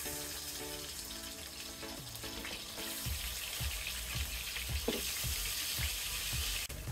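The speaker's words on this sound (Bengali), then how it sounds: "তেল গরম হয়ে গিয়েছে, এবার মাছগুলোকে আমি ভেজে নেব।" Fish pieces hitting hot oil in a pan, a loud steady sizzle with a sharper burst of frying partway through and light utensil clicks, no voices.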